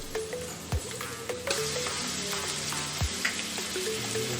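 Ginger garlic paste frying in a pan of oil and onions for biryani, a steady close sizzle with a few sharp knocks of a spoon against the pan, no voices.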